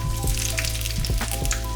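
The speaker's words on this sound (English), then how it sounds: "let's listen to the sizzle of this" Potatoes sizzle in hot oil on a baking tray, a steady close crackle of frying with small pops and soft spatters running throughout, fairly loud and even with no talking.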